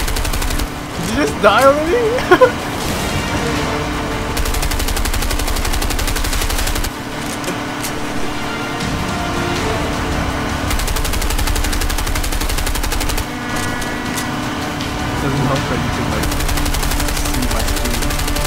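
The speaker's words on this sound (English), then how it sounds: "Hey, stop shooting for once." Sustained automatic gunfire rattles through a firefight in the video game A Way Out, a dense, loud stream of shots over a steady low rumble, with someone speaking briefly near the start.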